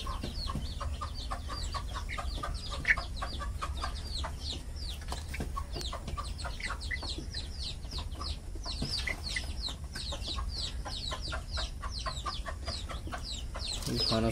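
Chickens and roosters fed earthworms cluck steadily in a close, busy chorus of short repeated calls, with faint farmyard background throughout.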